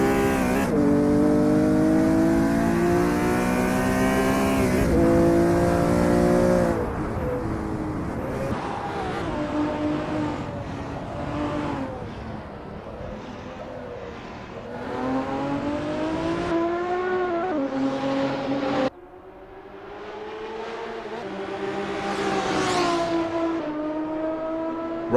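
Race cars warming up at the Nurburgring GP circuit in a sim racing game, their engines droning loudly and continuously with rising and falling revs and gear shifts, with a brief dip near the end before the roar resumes.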